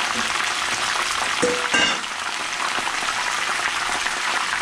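Banana, sweet potato and yuca chips frying in hot oil, a dense, even crackling sizzle close by with a brief clink of a utensil partway through.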